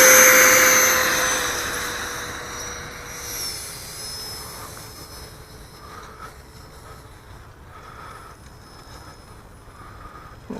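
Freewing Rebel V2 electric RC jet on a 5S battery, a high whining ducted-fan roar that starts loud and close, then fades as the plane passes and moves away, leaving a fainter distant whine.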